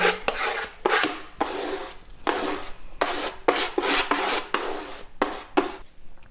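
Paint scraped across boards in loud, close, repeated strokes, each a broad rasping sweep about half a second long, coming in a steady uneven rhythm with short gaps and no talk.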